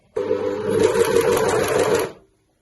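A sewing machine runs steadily for about two seconds, stitching a jersey sleeve seam with a fast, even whirring hum, close and loud, then stops abruptly into silence.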